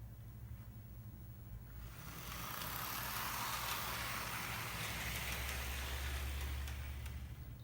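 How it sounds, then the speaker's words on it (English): A steady mechanical whir with a low motor hum that swells after a couple of seconds and holds, with a faint grinding, rubbing texture throughout, from an Athearn Blue Box Amtrak SDP40F model train locomotive with rubbing gears. "But I hear some rubbing gears."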